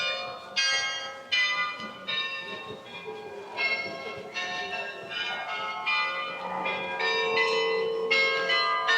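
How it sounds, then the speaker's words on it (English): Church bells ringing in a steady peal in Delft, repeated strikes overlapping with a resonant hum, fairly loud and close, with no talking. "so you can see all the bells up the top there"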